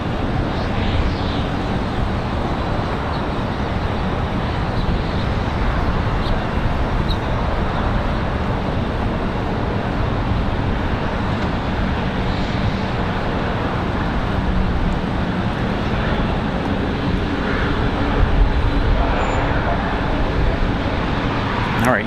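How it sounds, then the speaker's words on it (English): A Boeing 787 Dreamliner departs Raleigh-Durham International Airport on a windy day, its steady broadband roar holding for the whole stretch with gusty wind noise mixed in. "Alright, you guys enjoy the Dreamliner departure."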